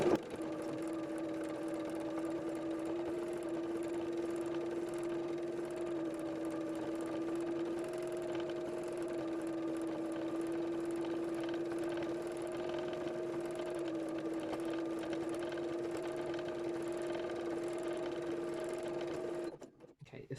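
A sewing machine running steadily for free motion embroidery on an art quilt with shiny thread, a continuous close hum with a stable motor pitch that stops abruptly near the end.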